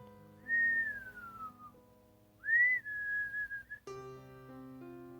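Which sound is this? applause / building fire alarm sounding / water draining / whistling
whistling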